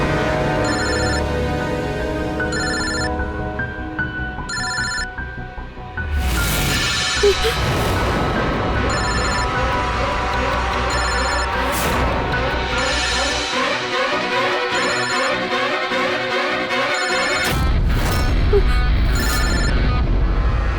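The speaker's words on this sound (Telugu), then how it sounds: "అరే, ఫోన్ రింగ్ అవుతుంది కదా" A phone ringtone repeats in regular melodic bursts over a loud dramatic music bed with booming hits, continuing steadily at a fairly loud level through the scene.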